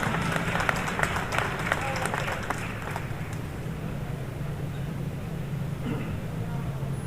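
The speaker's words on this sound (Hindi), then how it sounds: "इसको आप भरपूर तालियां कहते हैं क्या?" Audience at a Karachi mushaira applauds, a scattered wash of clapping early on that quickly thins into a steady crowd murmur, moderately distant.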